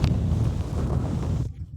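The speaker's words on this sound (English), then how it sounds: "we have a windy day today" Strong wind on a golf course buffets the microphone with a rough, low roar that cuts off abruptly near the end.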